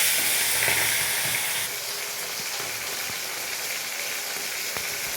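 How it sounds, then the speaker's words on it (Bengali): Pomfret fish frying in mustard oil, a loud dense sizzle that stays close and continuous, easing slightly after the first second, with a few faint stirring knocks and no talk. "প্রথমে আমি মাছগুলোকে ভেজে নেব।"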